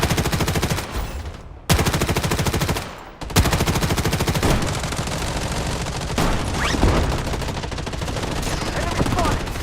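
Dense video game gunfire fills the stretch, with rapid machine gun bursts and repeated shots that are loud and nearly continuous, with a couple of brief gaps.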